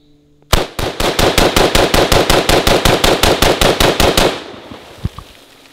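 A Tavor 7 bullpup rifle in 7.62x51 fires a rapid string of about twenty loud, evenly spaced shots that end abruptly, leaving a brief mechanical clatter afterward.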